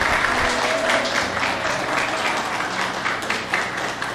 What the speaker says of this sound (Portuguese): Você pode aplaudir a Jesus, amém?